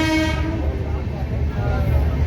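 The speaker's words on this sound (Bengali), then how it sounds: "এই পাশের ট্রেনটি হচ্ছে হাওড়া নিউ দিল্লি দুরন্ত এক্সপ্রেস।" The Howrah–New Delhi Duronto Express passes close on the adjacent track, opening with a short horn blast that gives way to a heavy, steady rumble of rolling wagons.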